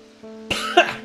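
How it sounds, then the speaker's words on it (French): A single close, sharp cough with a second rough hack right after, over a faint low hum. "je me fais tousser comme un con"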